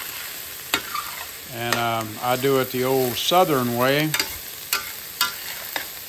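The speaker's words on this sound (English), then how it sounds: "I saute some onions, bell pepper, and celery." Onions, bell pepper and celery sauté in a pan for Thanksgiving dressing, a steady close sizzle with scattered clicks of stirring, while someone speaks over it for a few seconds.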